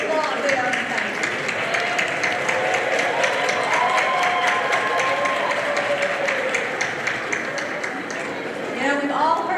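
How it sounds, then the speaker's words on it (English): Applause fills a graduation ceremony hall as the audience claps steadily for the graduates' supporters, a dense, sustained wash of hands with cheering voices and crowd chatter mixed in throughout. "graduates, I want you to applaud them"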